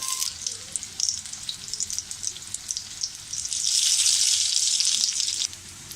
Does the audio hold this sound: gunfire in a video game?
no